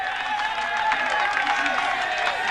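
A huge roadside crowd on the Alpe d'Huez climb of the Tour de France cheers and shouts in a continuous roar, with commentators talking over the din.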